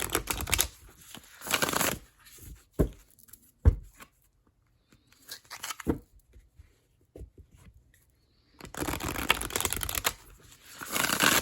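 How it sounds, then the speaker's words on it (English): Oracle cards being shuffled by hand in bursts of riffling, papery flutter with short pauses between, close and fairly quiet, no talking. "let's shuffle these cards"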